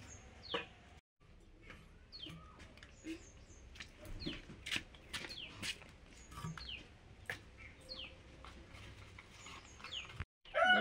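Chickens cluck and chirp intermittently nearby in a quiet outdoor setting, with scattered soft bird calls.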